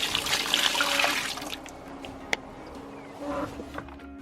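Water runs and splashes onto a horse's leg feathers while they are soaked ahead of a shampoo, louder and steadier at first, then trailing off to quieter trickles with a brief sharp knock midway.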